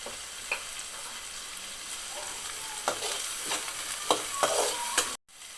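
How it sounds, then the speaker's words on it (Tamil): Onions fry in a pan with salt, giving a constant sizzle with intermittent stirring scrapes that grow busier toward the end before a sudden brief cut. "வெங்காயம் போட்ட உடனே நம்ம சால்ட் போட்டோம்னா தான் வெங்காயம் சீக்கிரமாக ஃப்ரை ஆகும்"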